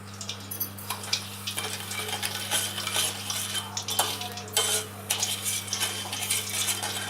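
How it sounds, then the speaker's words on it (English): A spoon stirs sugar and water on the flame for a sugar syrup, with light metallic scrapes and clinks against the pan over a low steady hum and a faint background hiss. "Let's stir this."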